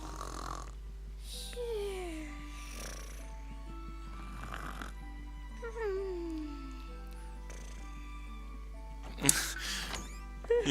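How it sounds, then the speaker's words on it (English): Slow, rhythmic snoring with drawn-out breaths repeating every few seconds, close and fairly quiet, with a sharp snort near the end. "Look at you, dozing so peaceful like."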